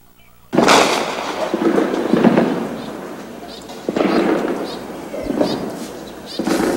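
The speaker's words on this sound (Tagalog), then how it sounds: "Binulabog ng mga putok ng baril ang grounds ng Amay Pakpak Medical Center" Gunshots ring out on the grounds of Amai Pakpak Medical Center in Marawi City, a few loud sharp bangs with echoing tails, spaced a second or two apart, with voices faintly underneath.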